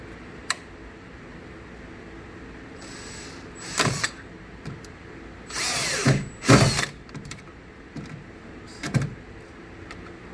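A power drill drives screws to hold a tight cord in place, heard as several short whirring bursts, the longest pair clustered mid-clip, separated by quiet pauses with faint handling noise and no talk.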